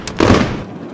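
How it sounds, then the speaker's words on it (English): A single sharp firecracker bang from a toy robot car, loud and close, followed by a brief fading rumble. "Firecracker."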